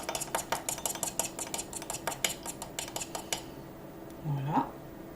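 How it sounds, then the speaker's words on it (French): A homemade nail polish remover mixture is stirred in a container, quick rhythmic clinking and scraping of a utensil against the sides for a few seconds, then it stops and a brief voice follows. "je vais mélanger bien"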